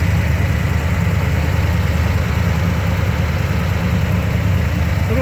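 A 1971 Corvette with its base 270-horsepower engine and Turbo 400 automatic idles nearby in a steady, even rumble with a dense low-end throb and no other sounds.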